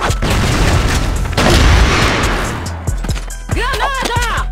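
A grenade explosion with a loud, rumbling boom and blast roar that slowly decays, followed by several sharp thuds while a voice speaks over the end.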